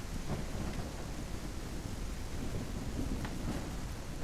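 A thunderstorm in a survival video game fills the scene with steady heavy rain hiss and low rumbling thunder, a continuous moderate wash with faint crackles and no voices.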